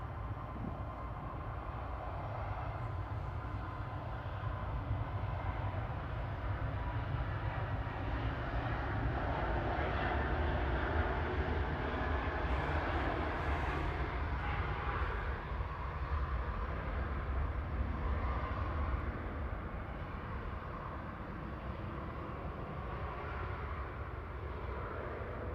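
An EasyJet airliner at Manchester Airport gives a steady, broad jet roar well in the background, holding continuously at an even level throughout.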